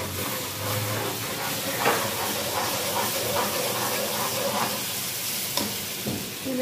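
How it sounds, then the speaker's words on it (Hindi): Ginger and garlic fry with browned onions in a pan, giving a steady, close sizzling hiss with occasional stirring scrapes and clinks throughout. "प्याज हमारे ब्राउन हो चुके हैं और इसमें मैं अदरक लहसुन डाल रही हूँ।"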